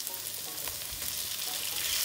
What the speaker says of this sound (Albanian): Pas janë skuqur edhe speci, tani do të bëjmë hedhjen e melçive.